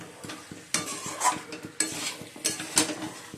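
Potatoes going into a pan of frying chicken, followed by a spatula scraping and clattering against the pan in repeated strokes over a light sizzle.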